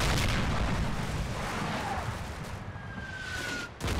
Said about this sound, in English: I'm not sure that's our artillery or their artillery.